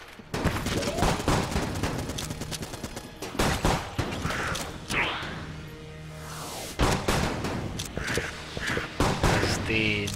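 The Deckard gun fires in the video game Enter the Gungeon, a rapid stream of sharp, loud shots in bursts with short pauses, mixed with game effects and a voice talking over it.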